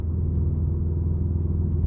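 Subaru WRX engine and drivetrain rumbling steadily through a downshift, a loud, close, continuous low drone with no voices.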